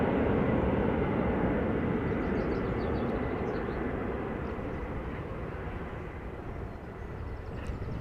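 An airliner climbing steeply after takeoff from Amsterdam Schiphol produces a loud, rumbling engine roar that slowly fades as it gains height, with no speech present.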